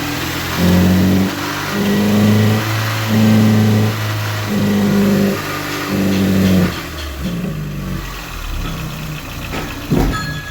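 A car engine revs in repeated bursts during a maintenance exhaust check, rising and falling in pitch several times, close and loud, then settles toward idle.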